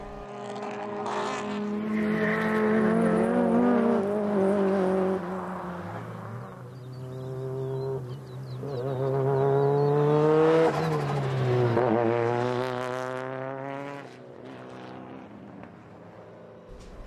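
Powerful race cars with engines over 2000 cc screaming past during qualifying at the Dracon track, loud engines rising and falling in pitch as they accelerate and pass close by, one after another, with no talk.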